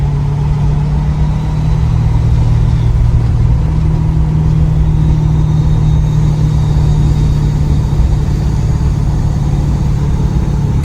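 A 2018 Ford F-350 pickup with compound turbos climbs a hill in mountainous Pennsylvania, giving a steady, loud diesel engine drone with deep rumble that runs unbroken through the whole stretch, with no talking.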